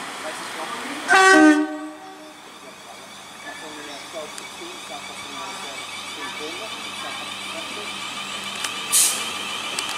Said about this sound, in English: Arriving now is the 12:16 South Western Railway service from Southampton Central to Bournemouth.